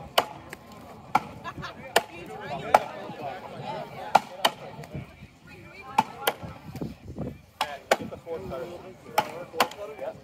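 At a lumberjack competition, two axemen take turns chopping a standing log in a Jack & Jill event, producing a steady run of sharp, loud wooden thwacks over crowd noise and an announcer's voice.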